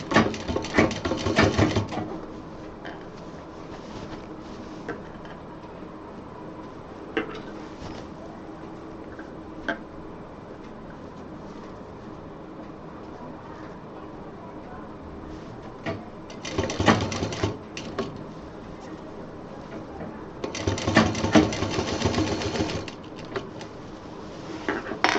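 A sewing machine stitches a baby diaper bag in several bursts of close, rapid rhythmic clatter, with quieter handling gaps between runs.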